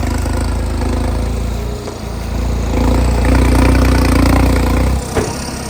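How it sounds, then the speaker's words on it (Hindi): A New Holland 3630 Special Edition tractor engine rumbles loudly nearby, labouring and rising in strain midway as it drives over a large field ridge, before easing off sharply near the end. "अब देखते हैं इस पर से कैसे निकलता है ट्रैक्टर।"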